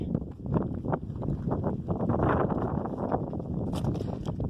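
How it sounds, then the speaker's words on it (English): Gusty wind buffets the microphone with low rumbling bursts throughout, loud and close, with a faint rustle near the end. "I do apologize for all of the wind."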